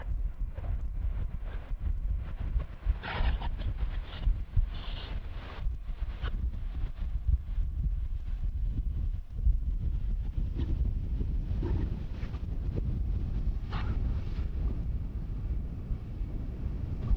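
Steady wind gusting across a microphone at Amsterdam Schiphol Airport beside runway 18R during crosswind arrivals, a continuous low roar with rustling buffets throughout and no voices.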